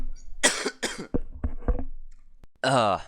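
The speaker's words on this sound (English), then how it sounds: "And I need to cough." A few sharp coughs in close succession, then a brief pause and a louder burst of voice at the end.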